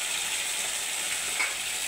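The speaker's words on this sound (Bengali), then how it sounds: "এখন এটাকে আমি একটু ভেজে নেব।" Spice paste of ground dried chilli, ginger, cumin and coriander frying in a pan, giving a steady, even sizzle throughout with one small brief pop near the end and no voices.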